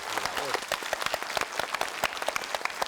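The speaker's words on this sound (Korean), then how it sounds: "이상훈 씨에게 힘찬 박수 한번 부탁드리겠습니다" A studio audience at a 1992 Korean television night show applauds steadily, with dense, lively clapping sustained throughout at close range.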